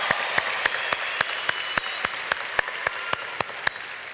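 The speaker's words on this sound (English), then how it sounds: "Let's give them an applause, guys." A graduation crowd applauds families, teachers and staff, a broad steady clapping wash with a regular series of sharp, evenly spaced loud claps cutting through near the front.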